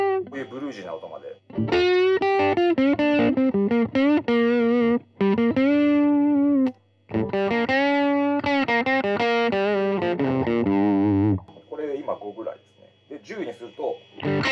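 Electric guitar played through a Golden Valve distortion pedal with the gain raised to a bluesy overdriven tone, loud sustained notes and short chord phrases with brief gaps between them.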